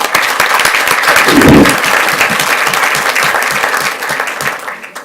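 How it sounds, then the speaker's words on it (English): Attendees at a school board meeting give a loud, full round of applause, steady and close for about five seconds before easing slightly. "Let's give them one more round of applause."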